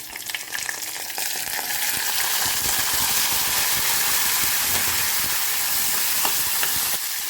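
Shallots, garlic and curry leaves sauté in a pan for chutney, giving a dense, steady crackling sizzle at close range with no talking.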